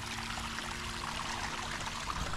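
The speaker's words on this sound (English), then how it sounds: "We have serious amounts of water coming in this hole" Groundwater pours steadily into an excavated gravel hole, running like a creek with a continuous close rushing trickle that never lets up, ending in a brief loud knock.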